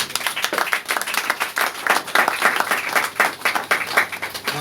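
Church congregation applauding during a Christian service, dense steady clapping from many hands that fills the room for several seconds without a break, with no voices standing out over it.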